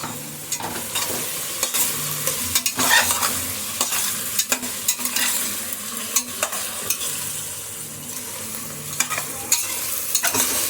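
Chopped ivy gourd (tondekai) frying with golden onions in a pan, a continuous sizzle under frequent quick scraping and clattering stirs of a spatula, close and fairly loud.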